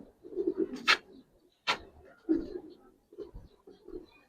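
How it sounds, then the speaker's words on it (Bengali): Giribaz pigeons, a male and a female, coo in low rolling bursts nearby, broken by a couple of sharp handling noises, with brief murmured speech in the gaps. "আর দুইটা কবুতরই খুব সুন্দর।"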